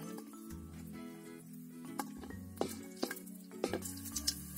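Garlic, with mustard seeds, crackling in hot oil in a pan while cooking chutney, a steady close sizzle broken by sharp spattering pops and a few clinks of pan and spoon.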